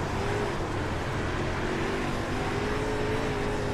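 A race car engine runs on throttle during a restart, drivers holding back to avoid spinning the tires. It is a loud, steady, unbroken droning roar heard close up, with no talking.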